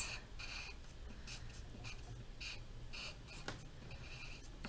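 Pencil or crayon scratches on paper while an apple is drawn: quiet, rapid strokes in short, irregular bursts, close to the microphone and with no talk.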